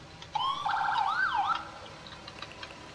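A wailing emergency vehicle siren from the EmergeNYC video game, one rising and falling sweep lasting about a second, moderately loud and alone against low background hum.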